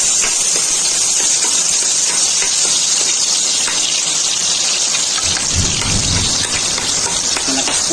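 Steady rain pours outside a home kitchen, a dense, even hiss that fills the whole stretch without pause, with a slightly heavier low rumble swelling near the end.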